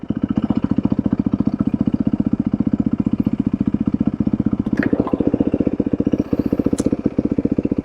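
A converted Yamaha WR450F dirt bike rides on the street, its engine a loud, steady, rapid thumping pulse that runs unbroken throughout, close up, with a couple of faint clicks and no voices.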